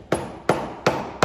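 A hammer strikes four times at an even, steady pace while dressing a saddle horn, each blow sharp and close with a short ring after it.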